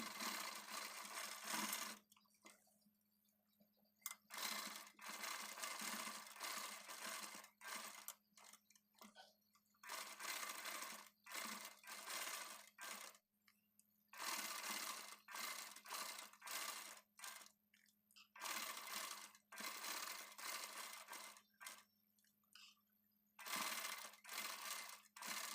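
A domestic sewing machine stitches a saree blouse elbow sleeve in short, rapid bursts of whirring and ticking, separated by pauses of near silence, close and fairly quiet.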